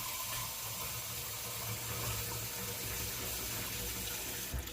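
Steady water runs from a tap to rinse out a cup, a continuous even rush at low volume with no voices.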